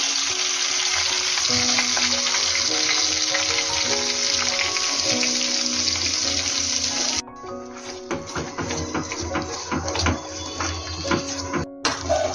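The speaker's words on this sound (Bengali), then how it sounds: "এই বাটাটা কিন্তু তেলে ভাজার জন্য একটু তেলটা বেশিই লাগবে" Banana peel paste frying in plenty of oil in a wok with black cumin and a dried chilli, a loud dense continuous sizzle, briefly dipping then resuming with stirring scrapes.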